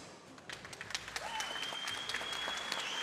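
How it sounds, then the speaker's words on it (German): Audience applause fills the hall at a professional boxing gala in Falkensee, many hands clapping in a continuous, slightly distant wash with occasional sharper claps and a faint whistle over it. "Meine Damen und Herren, nochmal einen großen Applaus."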